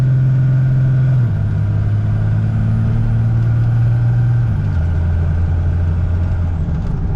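2002 Ram 2500 Cummins diesel pickup with a Tier One transmission accelerating, a loud steady drone that steps down in pitch twice as it shifts gears, recorded from inside.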